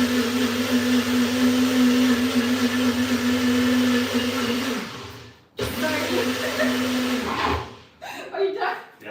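A blender whirs loudly and steadily as food is mixed, then stops briefly and starts again, with voices talking near the end.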